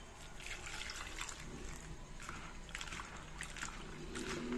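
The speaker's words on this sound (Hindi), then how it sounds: "अब इसे धो लेंगे खूब बढ़िया से" Soaked bitter gourd being washed by hand in water in a home kitchen: faint, continuous sloshing and trickling with light splashes, quiet and close, no talking.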